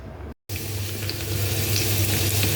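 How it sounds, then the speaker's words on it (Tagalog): Garlic sizzling in oil in a pan for chicken scallion, a steady close crackle and hiss after a brief break at the start, with faint stirring clicks. "igisa natin ang bawang"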